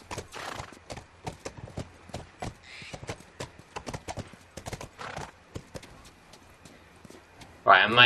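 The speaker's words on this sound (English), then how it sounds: "I may have to go on the horse" Horse hooves clip-clop in steady rhythm in The Last of Us, near and clear, with a whinny and a sharp burst near the end, while players talk over it.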